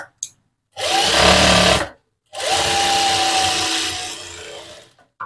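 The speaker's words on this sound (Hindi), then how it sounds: "यहाँ पे किनारी की लगाएंगे सिलाई" A sewing machine stitches pintucks on fabric in two loud, steady whirring runs, close up, separated by a short pause.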